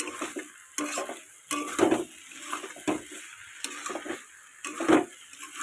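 A spoon stirs a prawn curry with potatoes, beans, eggplant, tomato and greens in a pan. It makes intermittent scraping and clinking strokes about once a second over a faint sizzle, with no voices.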